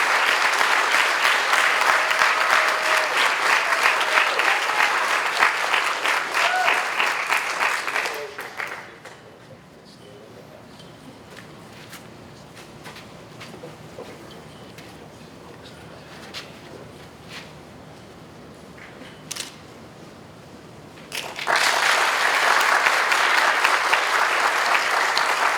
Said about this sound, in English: One more big round of applause for our award recipient.